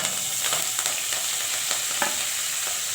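Fenugreek leaves with chili powder, turmeric and salt frying in a pan, a steady close sizzle with repeated scraping stir strokes throughout, no voices.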